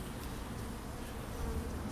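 Honey bees buzz steadily and continuously while a bee package is hived, a dense, even drone with no voices.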